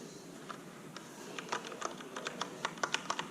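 Keys clacking on a Rosewill RK9000V2 mechanical keyboard, starting with sparse taps and building into a quicker, irregular run of crisp, close keystrokes over quiet room tone.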